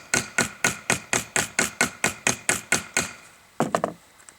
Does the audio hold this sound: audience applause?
no